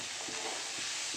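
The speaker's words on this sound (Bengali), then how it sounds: "তো এবার ভালো করে একটু নাড়িয়ে চাড়িয়ে নেব।" Chilli powder and spices being stirred in a frying pan, a steady broadband sizzle with a few soft scraping strokes, heard alone and fairly quiet.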